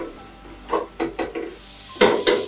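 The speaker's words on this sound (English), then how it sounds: "chopped garlic is being sauteed in desi ghee with a sprinkle of green chilies" Chopped garlic and green chilies sauteing in desi ghee at a Gujarati food festival stall, with a handful of soft scraping stirs and brief sizzling bursts spaced across the moment, close and moderately loud.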